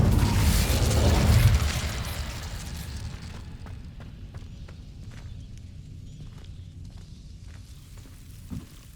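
A fire spell bursts in Hogwarts Legacy with a loud, broad whooshing roar that swells and fades over about two seconds, then gives way to quieter rumbling and faint ticking.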